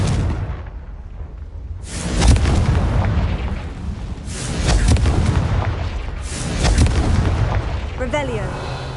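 Confringo fire spell explosions in the Hogwarts Legacy video game, with three loud booming blasts about two seconds apart over a rumbling game soundscape.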